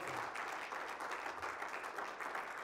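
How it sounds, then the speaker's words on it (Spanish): A church congregation applauding in praise during a sermon, a brief, fairly faint and even wash of clapping heard at some distance. "Si ese aplauso es para el Señor, déselo fuerte."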